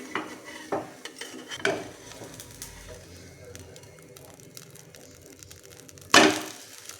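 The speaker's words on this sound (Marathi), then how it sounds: "आता हे उलथून घेऊया" Sabudana thalipeeth being flipped on a hot pan: scattered close scrapes and taps of a spatula over a faint sizzle, ending in one louder sharp scrape-clatter.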